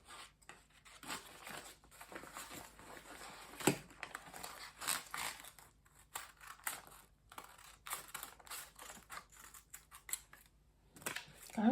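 Scissors cut fabric for a halter neck top, giving faint, close, irregular snips and rustles of cloth with short pauses between the cuts.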